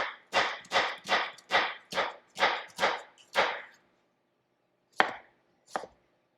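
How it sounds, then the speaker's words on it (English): A knife chops onions rapidly on a board for Mexican pozole soup, eight quick evenly spaced strokes, then a pause and two more isolated chops, close and clear. "we're going to start chopping some onions"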